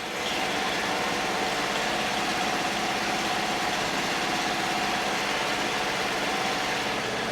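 A freshly installed 1966 VW Fastback air-cooled engine idles steadily and close by, a constant low rumble with fine rhythmic chatter and no voices over it.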